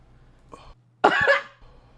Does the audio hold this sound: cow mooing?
no